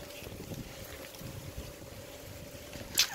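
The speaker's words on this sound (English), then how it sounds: "I hate you, wind." Wind gusts buffet the microphone outdoors during a bike ride, a steady low rumble with pulsing swells and a short sharp knock at the end.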